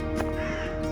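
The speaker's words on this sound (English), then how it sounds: "And the crow." A crow caws loudly and close in a Wye Valley woodland near Symonds Yat, two harsh calls within a single second.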